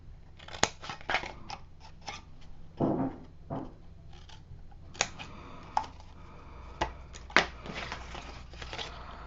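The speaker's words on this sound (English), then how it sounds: "we're going to cut our corners out just like always" Scissors trim the corners from craft paper for a brag book, a close series of crisp snips and rustles at an irregular pace.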